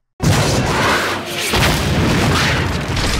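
A missile blast from the From Russia With Love video game erupts suddenly into a loud, sustained booming roar that briefly dips before surging again, and it carries on rumbling to the end.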